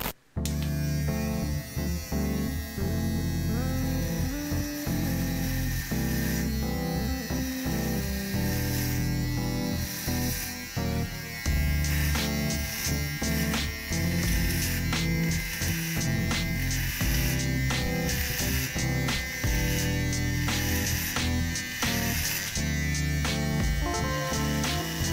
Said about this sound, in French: Je vais me raser le crâne parce que j'en ai bien besoin.